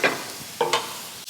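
Garlic sautéing in a pan for a turkey meatloaf, with a soft steady sizzle broken by a few close stirring scrapes.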